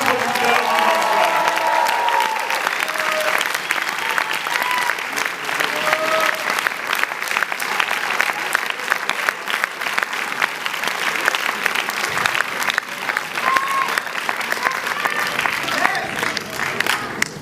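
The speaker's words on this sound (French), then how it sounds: "On peut maintenir vos applaudissements pour Jean-Pierre Guérin" Steady, sustained applause from a cinema audience at a film premiere in Paris, filling the room for the whole stretch with a few voices faintly audible underneath.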